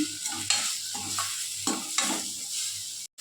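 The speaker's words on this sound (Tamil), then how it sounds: "அதை லைட்டாக கிளறி விடணும் பச்சை வாசம் போடுறது" Garam masala and homemade masala powder are stirred into sautéed onions frying in a pan for paneer gravy. Close, repeated scraping strokes run over a steady sizzle, with no talk.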